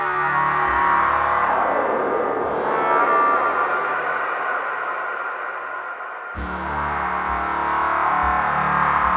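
Dense, distorted synthesizer drones from an electronic music setup, sustained tones shifting in pitch and texture across the span, loud and continuous with an abrupt change partway through, no talking.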